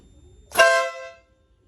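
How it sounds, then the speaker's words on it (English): A single loud air horn blast from a Slingshot, sharp and brassy, lasting about half a second before cutting off to silence. "I've installed an air horn so people will get out of your way."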